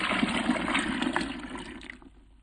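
Plant-based milk is poured into a blender for a vegan peanut, date and cocoa smoothie, a steady close liquid gush for about two seconds before it tapers off.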